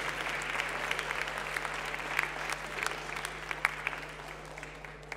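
Audience applause for two performers at the 2020 Young Talents Review, a steady wash of many hands clapping with a few sharper claps standing out, moderately distant, under a constant low electrical hum.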